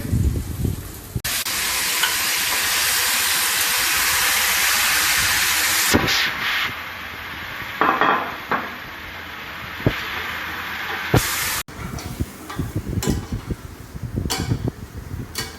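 Pork ribs hit a hot pan with cooked garlic and onion, giving a loud steady sizzle that later gives way to clattering and scraping of cookware.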